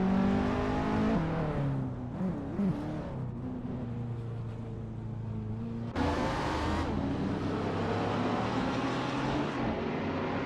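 Lamborghini and Ferrari supercars racing in a video game at Seattle Circuit: continuous loud engine drone with rising and falling revs, gear shifts and a sudden surge as cars push past.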